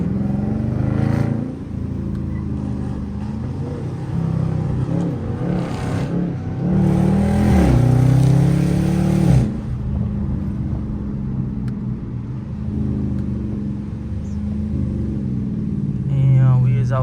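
Several hoodless Dodge Scat Pack cars rumbling along a bumpy city road, engines revving and swelling in bursts, one loud rising rev mid-way, with people talking over the steady close engine drone.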